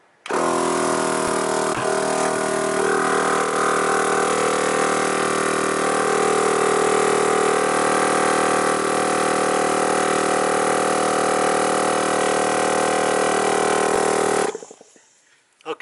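A 12V air compressor motor runs loud and steady for about fourteen seconds with a constant buzzing drone, then cuts off abruptly near the end, leaving near silence.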